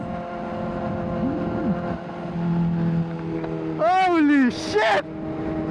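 A Kawasaki Ninja ZX-4RR motorcycle fitted with a smaller 13-tooth front sprocket revs hard and climbs rapidly in pitch through quick bursts, loud and close, while a rider exclaims over it.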